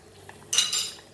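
Spoon stirring homemade baked bean sauce with vinegar and pepper, giving a couple of quick, faint metallic clinks and scrapes against the dish with no talking.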